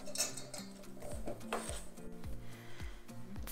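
Biscuit dough made with cold milk is stirred in a bowl for a cobbler topping, giving repeated close scraping and clinking strokes of a utensil against the bowl at an uneven, brisk rhythm.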